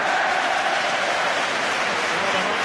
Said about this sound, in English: All the Hearts fans cheering everything